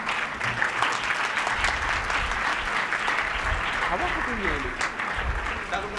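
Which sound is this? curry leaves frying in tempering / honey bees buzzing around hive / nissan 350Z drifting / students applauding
students applauding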